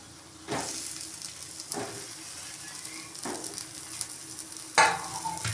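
Stuffed brinjals sautéing in masala in a pan, a soft steady sizzle punctuated by several distinct scraping stirs spaced about a second apart, the last one louder, with no speech.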